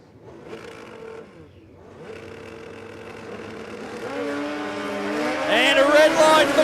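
Pro Street Radials drag racing cars launch off the line at Warwick Dragway in Australia. Engine roar rises in pitch and grows louder as they accelerate, under a race announcer's commentary.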